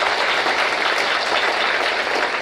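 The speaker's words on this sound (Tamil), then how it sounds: "நான் வந்து இவ்வளோ கைத்தட்டல் வாங்குறேன்னா" Audience applause during a college fine arts speech at Holy Cross College: continuous dense clapping from a large crowd, loud and even across the whole stretch, with no voices over it.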